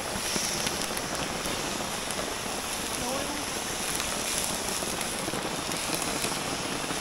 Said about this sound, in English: Alright, rain's ripping down, we had to ditch the fire.